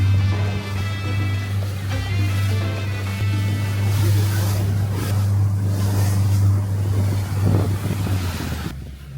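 A rented motorboat cruises the sea off the Amalfi Coast, its engine giving a steady low drone throughout with wind and water rushing over it, loud and close, with no one talking.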